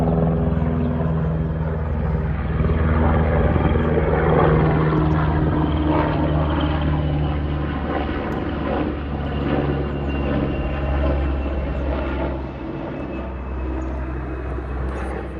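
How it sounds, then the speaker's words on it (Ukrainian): A helicopter flies overhead during mountain rescue season in Poland, its loud, steady rotor and engine drone continuing throughout, gradually easing slightly toward the end with no talking. "Трошки гуділо, я помовчала, показала вам вертольотик"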